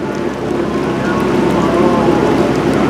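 A 1987 Force by Chrysler outboard motor runs at low speed on a boat, a steady close drone mixed with water and wind wash, without speech.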